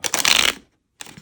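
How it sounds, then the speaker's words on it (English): A tarot deck is shuffled by hand, a quick riffling flutter of cards, a short silence, then the rustle starts again, close and crisp. "We're going to give this guy a good shuffle."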